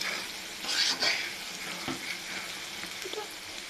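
Chopped onion and garlic frying in a pan as a finishing touch for a beef tripe dish, a moderate close sizzle with a brief louder hiss near the start and a few soft stirring knocks.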